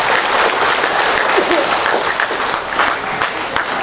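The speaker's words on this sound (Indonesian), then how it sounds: "Tepuk tangan dulu coba." An audience at a church inauguration bursts into sustained, dense applause, many hands clapping together loudly and continuously throughout.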